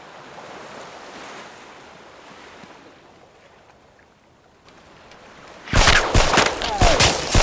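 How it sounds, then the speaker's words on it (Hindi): A burst of rapid gunfire erupts loud and close near the end, several shots crackling in quick succession after a stretch of wind and surf-like ambient noise. "फायर कहां से आया?"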